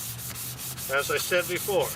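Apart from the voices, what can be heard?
dry sanding a car headlight lens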